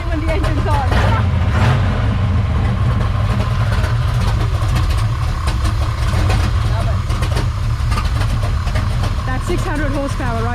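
A 600-horsepower hot rod engine runs close up at a Ford Model A car club show in Tennessee, a loud, steady low rumble under the crowd, with people talking over it.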